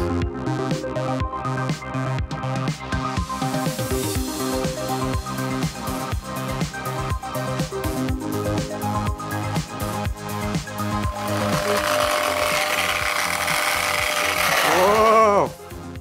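A power tool strips the sheet-metal floors of a Citroën C15 turbo 4x4 down to bare metal, a loud continuous grinding whine with a wavering pitch that rises toward the end before cutting off.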